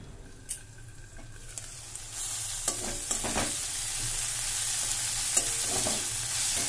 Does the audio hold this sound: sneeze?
no